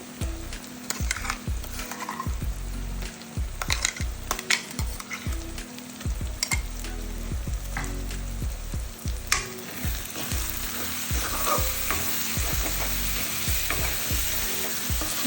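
Masala paste and tomatoes fry in oil for an Andhra-style spicy crab curry, with a steady loud sizzle broken by repeated spatula scrapes and knocks against the pan.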